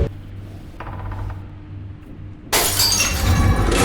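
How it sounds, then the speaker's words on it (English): A glass bottle tips over and shatters in the video game Among the Sleep, heard as a sudden loud crash that bursts in after a quiet stretch of low ambient hum and keeps ringing with scattered debris to the end. "the glass bottle is in front of it, making it tip over and break"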